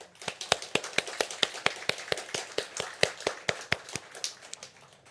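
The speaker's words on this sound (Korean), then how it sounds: "우리가 하나님께 감사의 박수 한번 올려드리겠습니다" A church congregation at a Sunday worship service in Hong Kong claps in thanks, sounding as a steady series of sharp, evenly spaced claps at moderate volume with no voices over them.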